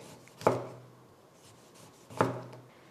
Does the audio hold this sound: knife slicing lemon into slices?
yes